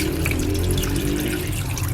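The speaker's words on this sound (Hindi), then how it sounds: "अब थोड़ा सा जो है वो इसमें पानी डालेंगे" Steady stream of water poured into chicken pieces in a home kitchen during cooking, a continuous loud rushing splash close by with no break.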